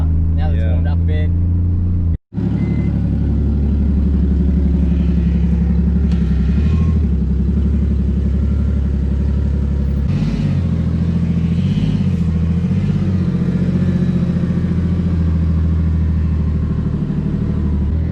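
A Nissan Stagea C34 idles warm with a newly fitted exhaust, giving a steady, deep, rumbling burble close by, briefly cutting out once early on and running evenly after, with faint rustling around it.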